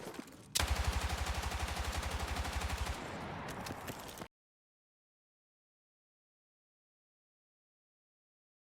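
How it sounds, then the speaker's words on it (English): Rapid automatic gunfire from a gun in a video game, a loud sustained burst of evenly spaced shots for about three seconds, then a trailing clatter before abrupt silence; no voices. "her shooting with this exact gun looked like this."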